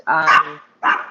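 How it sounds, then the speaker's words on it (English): A dog barks twice close by, two loud rough barks separated by a short pause, at home during a conversation. "sorry, that's my dog"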